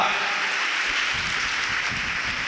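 A crowd at a gathering claps loudly in a dense, continuous wash of applause, with a voice faintly under it.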